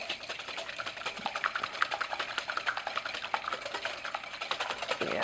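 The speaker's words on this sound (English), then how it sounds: "I'm going to place 2 large eggs. And I'm just going to whisk those." Two large eggs are whisked in a bowl, making a rapid, steady run of light tapping strokes against the bowl, close and fairly quiet, with no speech.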